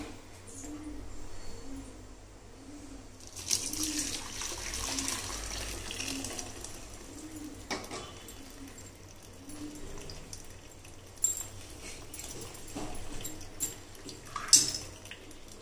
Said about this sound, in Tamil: இப்போ இந்த பன்னீரை வடி கட்டிக்கலாம்